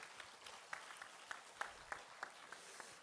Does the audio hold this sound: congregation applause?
yes